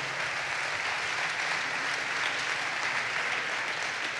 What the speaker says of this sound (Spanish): un fuerte aplauso por eso